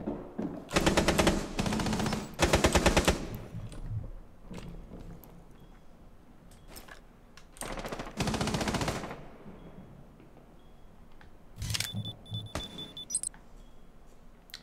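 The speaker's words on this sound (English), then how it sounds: "Can you hear Caviera shooting at somebody?" Automatic gunfire in Rainbow Six Siege comes in several rapid bursts, two close together early, another a few seconds later and a sharper, lighter burst near the end, with quiet game ambience between.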